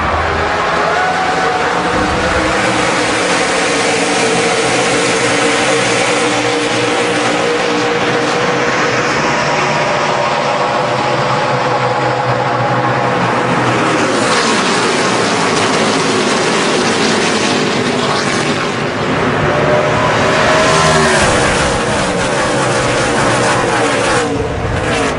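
NASCAR stock cars racing at Pocono in the 2011 Good Sam RV Insurance 500 form a loud, continuous roar of many engines, pitches swelling and sliding as the pack passes, with faint commentary beneath.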